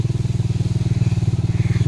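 A motorcycle rides along a muddy farm-to-market road, its engine putting out a loud, close, steady low thumping pulse at an even rhythm throughout.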